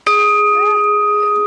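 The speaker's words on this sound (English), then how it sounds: "You will hear the lovely sound of the bell." A single bell struck once at a UN high-level dialogue on interreligious co-operation for peace, a loud sharp strike followed by a clear sustained ringing tone with a long, slowly fading resonance.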